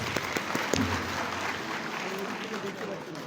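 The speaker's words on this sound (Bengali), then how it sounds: "সবাইকে জুড়ে একটু হাততালি দিচ্ছি সবাই সবাইকে হাততালি প্লিজ" Audience applause welcoming new students at an Islamic university orientation, a sustained crowd clapping with a few sharper claps near the start, moderately loud, while someone talks over it.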